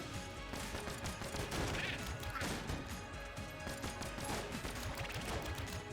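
Turbo gun firing in Enter the Gungeon, a quiet, busy clatter of rapid shots and impact crashes running continuously over six seconds.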